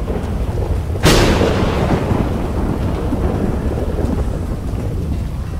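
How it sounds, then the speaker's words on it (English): A sudden, loud thunder crack strikes early, then rolls into a long low rumble over steady rain hiss, a game server's thunderstorm effect with earthquake shaking. "the weather changes to a thunderstorm, with an earthquake effect and a special sound effect, caused by the thunder strikes"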